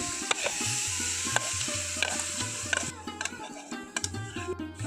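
Grated coconut and sugar cook in a wok for coconut-sesame naru, with steady stirring and scraping, a soft sizzle, and sharp clinks of a spatula over a low hum.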